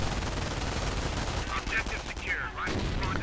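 Machine gun and submachine gun fire from MG 42s and MP40s in a World War II strategy game battle, a dense continuous crackle of overlapping bursts with whistling and impacts layered through a busy combat mix.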